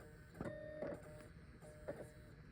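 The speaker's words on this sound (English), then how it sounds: "it's almost like the super drive is playing a little song" A USB SuperDrive burning a DVD gives off faint, odd whirring chirps and short tonal bleeps at irregular moments over a quiet hum, sounding almost melodic.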